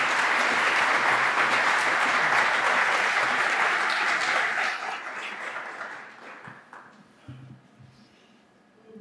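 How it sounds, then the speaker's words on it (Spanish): Audience applause fills a lecture hall after a guest speaker on the Teotihuacan excavations is introduced; it is loud and dense at first, then thins and fades out over the last few seconds. "un aplauso para Nagua, por favor."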